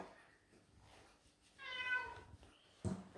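A shorthaired cat gives a single clear, close meow while being groomed, with faint brushing and handling sounds around it and a short thump near the end.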